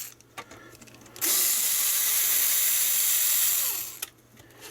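A power driver spins out screws from an Acorn Electron Plus 1 interface board, one continuous loud whirring burst of about three seconds, close by, with quieter handling clicks before and after.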